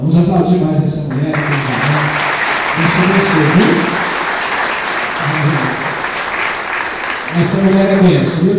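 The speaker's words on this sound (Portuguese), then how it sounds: "Vamos aplaudir mais essa mulher." Loud, sustained applause from a church congregation, a dense wash of clapping that continues throughout. A voice speaks or sings over it in bursts.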